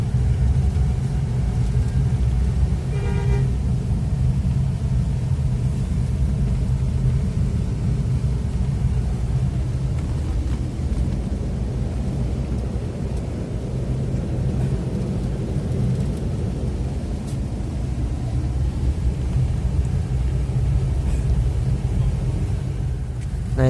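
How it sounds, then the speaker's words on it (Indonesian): Deep, continuous rumble of bus engines at Kalideres bus terminal in Jakarta, a steady low drone with traffic noise, no voices. "Banyak sekali bis di sini."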